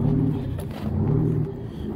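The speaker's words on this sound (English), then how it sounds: "I'm firing this truck up" A Detroit Diesel engine in a Transtar truck turns over and fires up, a loud, low, rough rumble that dips and swells again as it catches, close by with no talking.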